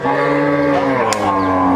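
A local desi dairy cow with a heifer calf at a cattle market lets out a single long, loud moo that continues steadily and close by throughout.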